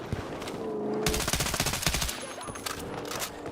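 Burst-fire gunfire in the Battlefield 6 video game from a weapon fitted with a stubby grip: after a brief lull, a loud rapid string of close shots rattles for about a second, then trails off into quieter game sounds.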